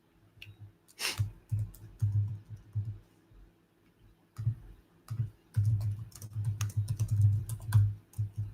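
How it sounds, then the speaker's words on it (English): Typing an email on a computer keyboard, with bursts of close, brisk key clicks separated by short pauses and no talking. "So I'll type my email again."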